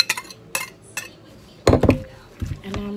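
Minced chicken larb is stirred with freshly sliced herbs in a bowl, with a series of close clinks and scrapes of a utensil against the dish and short pauses between strokes.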